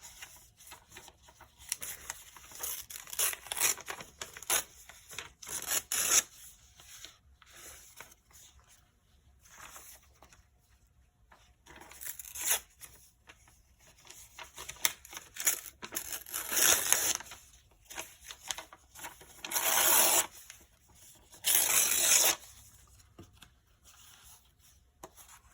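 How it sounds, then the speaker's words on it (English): Old secondhand hymn book pages torn by hand into strips, a series of sharp, close paper rips in bursts separated by quieter shuffling and crinkling. "I'm going to just tear these in strips."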